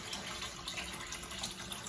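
Tap water runs steadily into a bowl while rice is rinsed for a third time, making a close, continuous splashing hiss with no talk.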